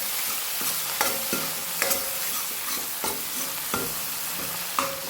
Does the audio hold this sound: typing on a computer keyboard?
no